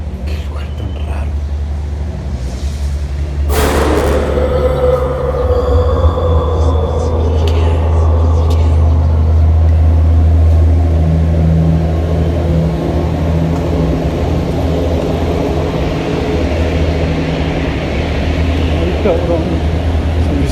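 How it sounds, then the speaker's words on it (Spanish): Heavy trucks rolling along a highway past an abandoned house, a steady low drone of passing traffic that swells and fades, with a sharp burst near the start and faint whispered voices over it. "todo el tiempo se ve escuchar el sonido de los camiones"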